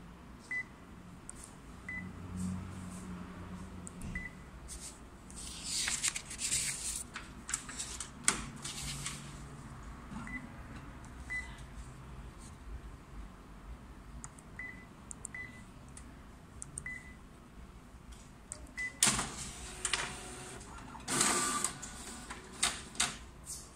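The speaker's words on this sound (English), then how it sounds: "So we're gonna try to scan." A Ricoh IM C2000 copier scanning a page makes a steady mechanical whir with short electronic beeps and clicks spread over several seconds. The sound is moderately loud and close, with faint room noise and no clear speech.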